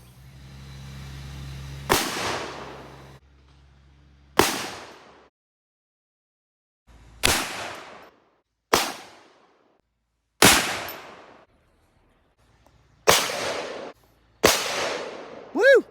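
Seven loud, sharp big-bore rifle shots in .450 Bushmaster, .458 SOCOM and .50 Beowulf ring out one at a time while sights are zeroed outdoors, each a booming crack with a short decaying tail, spaced a couple of seconds apart.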